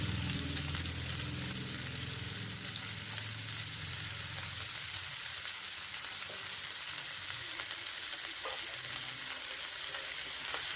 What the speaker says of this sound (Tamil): ஆனியன் நல்லா குக் ஆகட்டும்.